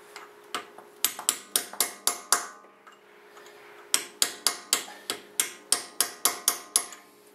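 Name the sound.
hammer and chisel striking axle nut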